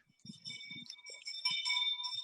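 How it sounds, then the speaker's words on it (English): A hand bell rings in quick bright clangs, somewhat distant, with a few faint low thumps or voices underneath. "there's a guy ringing a bell"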